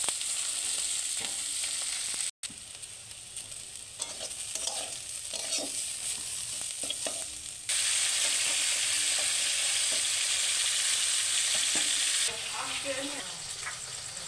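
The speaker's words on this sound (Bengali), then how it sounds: "এই যে জিরে আর পেঁয়াজ তেলে পরে দিয়ে একটু ভেজে নেব" Cumin and onion fry in hot oil in a pan for a taro dish, giving a steady close sizzle with occasional stirring scrapes and a louder hiss partway through.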